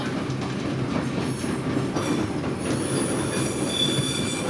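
Train running on rails through the descent into Forsayth, loud continuous rumble with high metallic wheel squeal building in the second half, steady and close, no talking.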